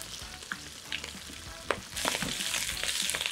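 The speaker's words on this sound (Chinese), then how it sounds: "就唔好煎到佢全熟喎，或者係炸到佢全熟喎" Lobster pieces sear in a hot wok for a Cantonese banquet dish, with a few sharp clicks and taps before a loud, dense sizzle rises and holds steady, no talking.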